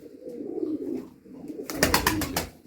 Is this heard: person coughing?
no